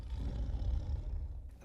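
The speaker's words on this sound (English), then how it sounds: "in 1982, they switched it to a tiger sound" A tiger roar used for the MGM lion logo, one deep, rumbling growl that swells and then fades, loud and alone.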